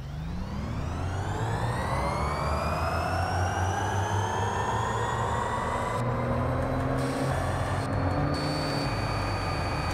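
A GMC Hummer EV pickup in the racing game Forza Horizon 5 accelerates continuously, its electric whine climbing steadily in pitch over a low rumble, loud and unbroken with no talk.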